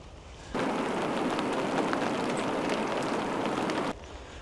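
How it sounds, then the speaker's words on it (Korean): Rain starting to fall at a pond during a spring crucian carp fishing trip, a steady, dense hiss of drops on surfaces that swells in abruptly, holds loud and even for a few seconds, then cuts back. "비가 내리기 시작합니다."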